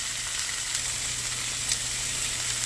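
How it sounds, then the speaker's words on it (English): Sausage frying low and slow in a pan on a stovetop, a steady, even sizzle with fine crackle, continuous and close at moderate level with no talking. "Gonna go ahead, let that fry up a little bit."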